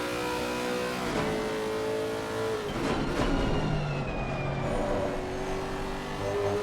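A Lexus GT3 race car in a sim racing game at Valencia accelerates and revs loudly, its engine pitch climbing, dropping sharply around a gear change, then rising again through a fast corner, with other cars' engines nearby.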